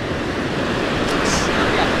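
Ocean waves slap and surge against a small wooden fishing boat on rough water, a continuous loud wash of surf and wind with no clear breaks, close to the microphone.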